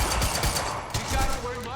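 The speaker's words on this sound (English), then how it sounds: "You heard the gun." Rapid gunfire in a shooter video game, bursts of automatic shots crackling over a few seconds, loud and close, with a voice talking over it.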